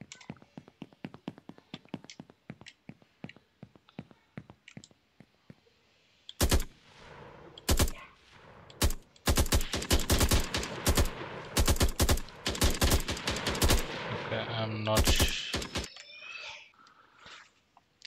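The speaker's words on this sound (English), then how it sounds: "now let's pick the weapon and try firing." Weapon fire in an Unreal Engine 5 game: a long run of sharp synthetic gunshots, scattered single shots at first, then dense rapid bursts like automatic fire, loud and close with no talk.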